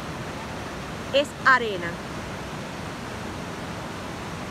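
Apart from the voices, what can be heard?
water of the Alpayacu river flowing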